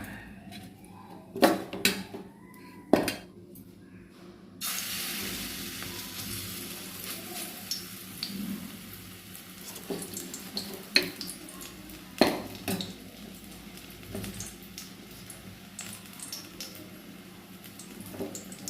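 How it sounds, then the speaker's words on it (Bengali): Onion and green chilli gram-flour fritters dropped into hot oil: a few clinks, then a sudden loud, continuous sizzle and bubbling with occasional stirring scrapes, close by and with no talking. "পেঁয়াজ কুচি লঙ্কা কুচি দিয়ে করেছি এই যে তেলটা আমার গরম হয়ে গেছে দিয়ে দিই"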